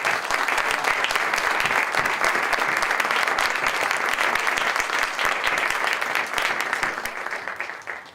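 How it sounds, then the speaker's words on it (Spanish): Sustained applause from a conference audience after a panel discussion on the USMCA trade renegotiation, dense even clapping that holds steady and begins to taper off at the end. "el equipo que está aquí conmigo merece un gran aplauso"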